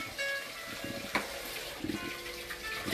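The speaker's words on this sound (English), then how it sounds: "just got to wash my hands up real good" Running tap water splashing over hands being washed in a kitchen sink while cooking steak with raw egg, a steady moderate wash with a few brief knocks and splashes.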